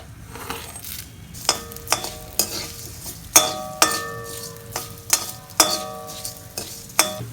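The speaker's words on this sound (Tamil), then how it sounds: "இப்போ எண்ணெய் காஞ்சிருச்சு முதல்ல அந்த மல்லி போட்டு நம்ம வைக்க போகிறேன்" Coriander seeds roasting in hot oil in a pan, with a spoon stirring them and sharp metallic clinks against the pan repeating every half second or so over a soft, steady sizzle; no talking.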